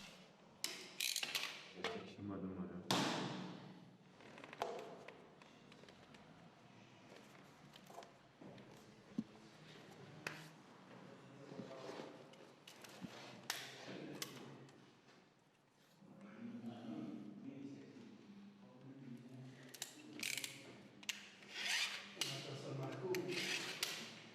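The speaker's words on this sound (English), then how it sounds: "use a flat bar again to cut the tile to size. Cut several times to ensure a good fracture line." Click-lock parquet vinyl tile is scored and cut to size along a flat bar, with several close, scraping strokes and ratchety creaks coming in bursts separated by brief pauses.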